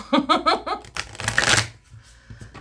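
Cards are riffled and bridged in quick bursts, a brief laugh breaking in between, followed by a few soft taps and rustles.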